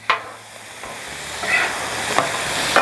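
Vegetables are flipped on a Blackstone griddle, with a soft sizzle and hiss under a few scraping spatula strokes and light clicks, fairly quiet and close.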